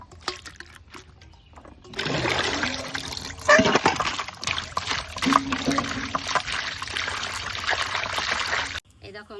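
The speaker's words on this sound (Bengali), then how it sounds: "এগুলো ভালো করে সুন্দর করে ধুয়ে নেব" Potatoes and vegetable stems are rinsed by hand, water sloshing and splashing in a close, steady wash that starts after a quiet moment and stops abruptly near the end.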